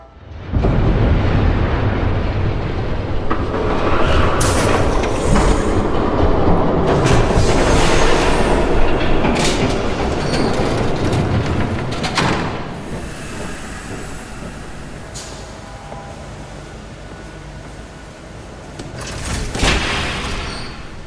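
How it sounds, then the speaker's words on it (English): A train rumbles past with steady loud broadband roar and hiss, rising and swelling over about twenty seconds, set in a Batman: The Telltale Series game scene, with no talk over it. "There's a train coming."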